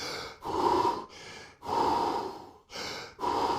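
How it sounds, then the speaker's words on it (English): Deep, forceful breaths from one person doing a Wim Hof method breathing exercise, with long inhales and exhales in a steady rhythm, close and fairly loud, with no talking. "You do the 30 times deep breathing."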